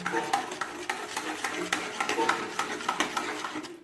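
A spoon stirs a paste of poppy seeds and melon seeds into cauliflower roast in a pan, making close, rhythmic scraping strokes about twice per second with soft sizzling underneath.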